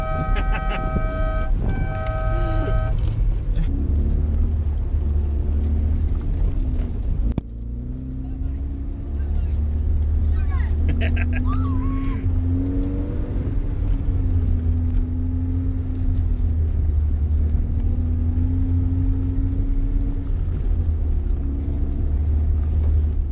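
A Datsun Stanza is thrashed around laps in a grassy paddock, its engine droning and revving steadily with a constant low rumble and some wind buffeting, while young voices talk over it.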